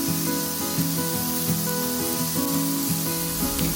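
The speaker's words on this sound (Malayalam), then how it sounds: "എല്ലാം നന്നായിട്ട് സോട്ട് ചെയ്യണേ." Chopped shallots and green chillies sauté in hot oil for a chicken curry, giving a close, continuous sizzle and hiss with light stirring scrapes over a soft tonal background.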